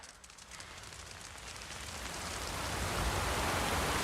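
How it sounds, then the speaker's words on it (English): Rain builds steadily into a dense, hissing downpour, starting light and growing loud and close over a few seconds, with no voices. "It's gonna start raining in 1 minute."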